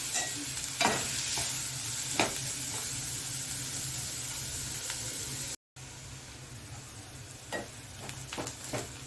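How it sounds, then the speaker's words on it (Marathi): Chopped onion and green chilli being sautéed in a pan for pav bhaji, a continuous hissing sizzle with intermittent scraping stirs and spatula taps, close and steady, briefly cutting out partway through, no talking. "हा कांदा आता आपल्याला व्यवस्थित परतवून घ्यायचा आहे।"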